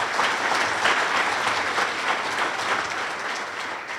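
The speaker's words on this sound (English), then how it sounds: "Give Carrie a round of applause." An audience at a business forecast breakfast applauds a newly hired director, a dense, even clapping that stays fairly loud for several seconds before easing slightly at the close.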